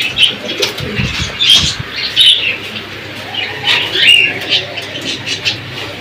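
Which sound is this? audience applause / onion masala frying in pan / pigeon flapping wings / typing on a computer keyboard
pigeon flapping wings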